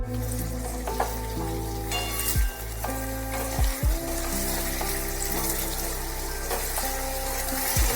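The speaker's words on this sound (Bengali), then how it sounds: "ভালোভাবে একটু তেলের সাথে নাড়াচাড়া করে নিতে হবে।" Diced potatoes seasoned with salt and turmeric sizzle steadily in hot oil for an egg and potato bhuji, with a spatula scraping and stirring at intervals against the pan over a soft tonal background.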